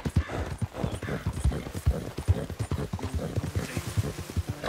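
Horse hooves in the video game Red Dead Redemption 2 clip-clop in a brisk, regular rhythm close by, with occasional snorts and faint ambient noise.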